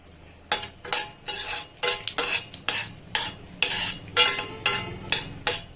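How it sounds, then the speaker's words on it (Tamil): Cashew nuts roasting in hot ghee in a pan for mango kesari, stirred with a metal spoon, giving a run of regular scraping clinks over a soft, steady sizzle. "நெய் நல்லா சூடாயிடுச்சு. இந்த முந்திரி பருப்பு வறுத்து எடுத்துக்கலாம்."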